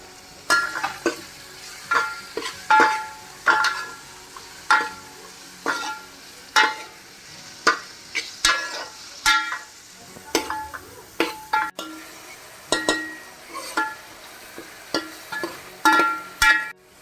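Tomato and onion frying in a pan for a crab curry, with steady sizzling broken by regular scraping and stirring strokes of a utensil against the pan.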